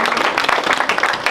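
Comedy club audience at a stand-up show cheering and applauding, a dense, steady wash of clapping that fills the whole brief moment.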